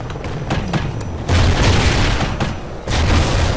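Heavy booming blasts from grenade launcher rounds in Call of Duty Ghosts multiplayer, loud dense explosions overlapping with rumbling gunfire that swell in waves, with no speech over them.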